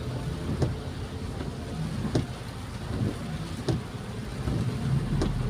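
Steady, dense rain hisses throughout, with a low rumbling background and occasional brief louder taps.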